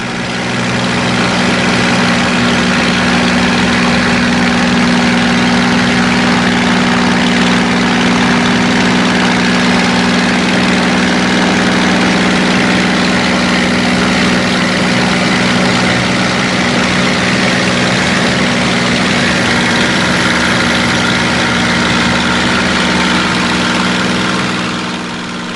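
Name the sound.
Spitfire aircraft engine during air display flight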